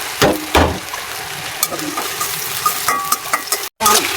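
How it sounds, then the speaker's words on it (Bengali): Chopped onions fry in a pan for a fish curry with potato and eggplant, giving a steady sizzle broken by a few loud stirring scrapes and clatters near the start. "এর মধ্যে আমি পেঁয়াজ কুচি দিয়ে দিলাম"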